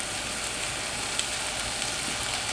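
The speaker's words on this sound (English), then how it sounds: "you can hear it searing now" Pot roast seasoned with salt and pepper searing in a skillet, a steady, dense sizzle and crackle with no pauses, close and fairly loud.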